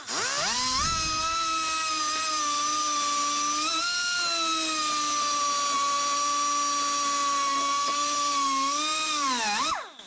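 A high-pitched power tool trims a plastic part of a GO DEEP snorkel kit on a Can-Am Outlander ATV, its motor whining steadily and loudly for about ten seconds before spinning down.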